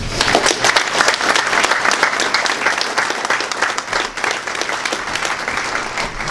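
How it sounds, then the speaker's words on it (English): An audience at a community breakfast applauds with dense, sustained clapping that carries on steadily and fairly loudly from start to finish. "Please join me in a round of applause for all of these fine neighbors."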